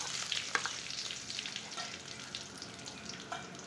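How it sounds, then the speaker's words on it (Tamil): Mustard seeds spluttering and crackling in hot oil, a steady soft sizzle dotted with small irregular pops, fairly quiet and close, with no voices. "கடுகு நல்லா பொரியிட்டோம். கடுகு பொரிஞ்சிச்சு."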